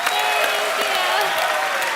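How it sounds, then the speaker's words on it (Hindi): Steady, dense applause from a TV comedy show studio audience at a Christmas celebration, a continuous wash of many hands clapping at once, with no talking over it. "दोनों के लिए जोरदार तालियां हो जाए।"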